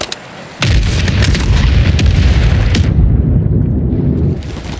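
Heavy gunfire from a sniper rifle in the battle-royale game Warzone: a loud sustained burst of booming shots and blasts with sharp transients, dense and close, no talk over it.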